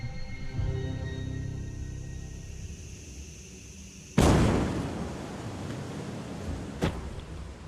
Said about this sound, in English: When we were pressing the nitrogen system, we had an explosion that took out the rocket